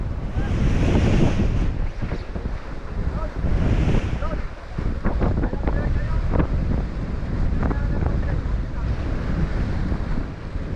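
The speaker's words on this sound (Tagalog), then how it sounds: "Lakas ang hangin." Strong wind roars and buffets the microphone over crashing waves on the West Philippine Sea, loud and steady with gusts throughout.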